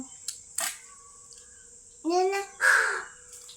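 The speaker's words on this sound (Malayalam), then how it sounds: "കറിയെല്ലാം കൂട്ടിയിട്ട് കൊടുക്കുന്നു കാക്കക്ക്" A crow being fed curry gives two loud, close caws in quick succession, after a few sharp clicks and handling noises in an otherwise quiet moment.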